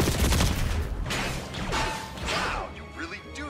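AK-47 fire in Call of Duty Black Ops 6: a loud, rapid burst of gunshots with impact crashes and whooshes, followed by quieter battle sounds and scattered game effects.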